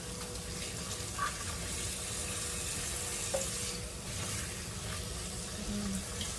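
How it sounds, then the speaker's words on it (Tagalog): Tomatoes sautéed with onion and garlic in a pan, a steady, even sizzle of frying close by, with a few faint clinks and stirring noises scattered through. "Igigisa natin sa kamatis ito at saka sa sibuyas at saka sa bawang"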